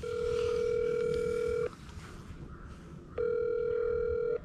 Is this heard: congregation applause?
no